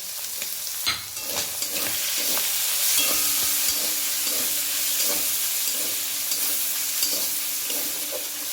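Fried prawns sizzling hard in hot oil with chopped ginger and slit green chilies, a continuous close hiss with intermittent stirring clatter, no talking.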